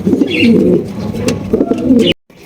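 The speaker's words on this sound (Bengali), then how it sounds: "এখানে কিন্তু রয়েছে একজোড়া মুখী কবুতর ব্ল্যাক মুখী দেখতে পাচ্ছেন" A pair of black Mukhi pigeons cooing close by, loud throaty rolling coos in two bursts that end abruptly.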